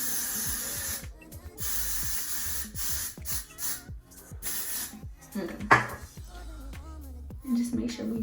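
Got to Be hair spray hisses in short bursts close to the mic, mixed with rubbing, brushing and handling noises, with occasional voice in the background.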